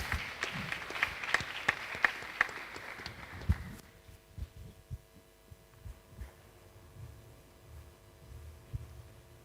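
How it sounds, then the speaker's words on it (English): At a university technology week event, scattered applause welcomes a speaker, a few sharp claps over a low hum that quickly thin out into sparse taps and room noise. "Please let's welcome her with a round of applause as she represents Solar Taxi."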